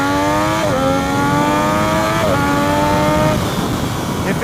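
Triumph Daytona 675R motorcycle engine revving hard on twisty roads, a loud rising whine that climbs in pitch, dips at two gear changes, then fades under wind rush toward the end.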